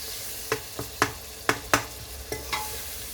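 Mutton pulao ingredients with onions and spice powders stirred in a pan: a soft sizzle beneath about seven distinct, irregular scraping knocks of a spoon against the metal, close and fairly loud, with no voices.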